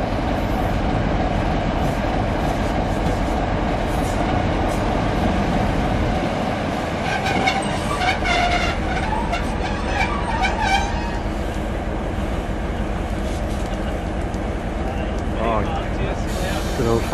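A loco-hauled excursion train from Stranraer rumbles at Girvan Station, a steady low mechanical drone with some brighter clanks in the middle, heard under people talking on the platform.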